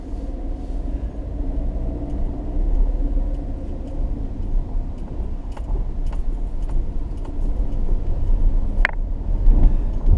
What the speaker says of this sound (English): Well, let's take a drive through it before we go find bridge number 2.